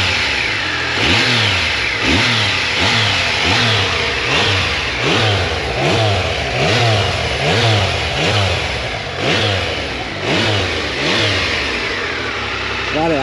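A 1999 Triumph Tiger motorcycle engine runs close and loud, revved up again and again in a steady rhythm of rising and falling bursts, with people talking underneath.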